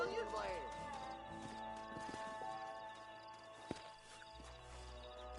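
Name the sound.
horses' hooves in Red Dead Redemption video game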